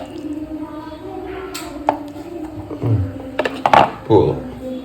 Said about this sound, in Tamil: 6 இதை இன்னும் கூட வெட்டிடலாம்.